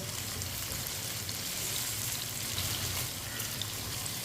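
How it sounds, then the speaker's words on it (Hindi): Okra tossed with gram flour fries in a pan for besan bhindi, giving a soft, even sizzle. The sound stays low and unbroken throughout, with no voices. "भिंडी को ऐसे ही हल्के हाथों से मिक्स करते हुए पका लेते हैं। फ्राई कर लेंगे 3-4 मिनट के लिए।"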